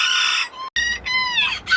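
Bantam chickens clucking and calling up close, loud high-pitched squawks and drawn-out crow-like cries in quick succession, with no one talking.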